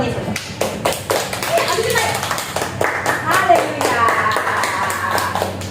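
Children clapping hands together in a Christian kids' lesson, quick rhythmic claps over several seconds, fairly close and loud, with voices talking and cheering among them.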